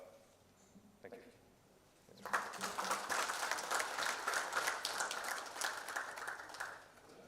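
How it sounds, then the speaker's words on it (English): An audience at a biodiesel conference claps after a talk: after a quiet stretch with faint sounds, loud sustained applause breaks out at once and holds to the end. "A big round of applause, please."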